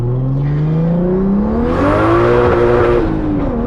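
Turbocharged BMW E36 engine revving hard: a loud, close rising drone that climbs steadily in pitch, then surges with strong whooshing intake and turbo noise before settling into a sustained high rev, with no talking.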